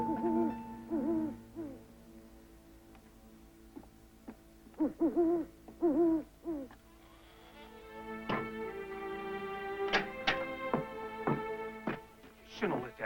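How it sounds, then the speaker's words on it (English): An owl gives repeated hooting calls in a spoken animated story, with wavering tonal hoots in short bursts, close and clear, followed by other tonal calls and clicks. "Just an old barn owl."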